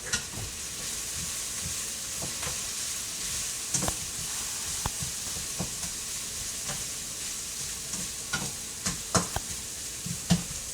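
A yellow onion and leek cook in olive oil with salt and pepper in a pot, giving a soft, even sizzle throughout with scattered small pops and crackles, left alone without stirring.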